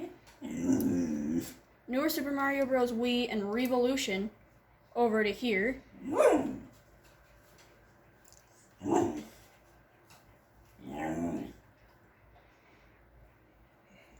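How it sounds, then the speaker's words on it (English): A dog barks, growls and whimpers indoors at someone outside, short bursts breaking out between a man's speech that runs over and around them. "that's just my dog barking at someone outside"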